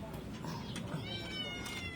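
Several cats and kittens meow nearby, high drawn-out cries overlapping and repeating, while someone talks softly under them.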